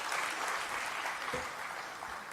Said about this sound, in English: A big round of applause for such a person.